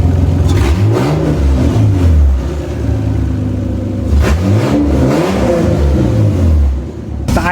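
A Toyota Cressida MX83 engine running through its new exhaust, loud and close, with a steady low drone and repeated revs that rise and fall, slightly rough between them.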